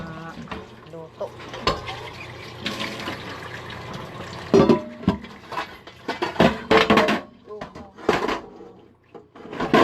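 Cooking pots are washed by hand under running water, with tap water splashing, metal clanks and knocks of pots being handled, and a voice speaking now and then amid the close, uneven clatter.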